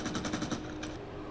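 Rapid automatic gunfire from a weapon in the tactical shooter game VALORANT, a fast burst of about six evenly spaced shots in the first half second followed by a lighter trailing report, loud and close with no talk.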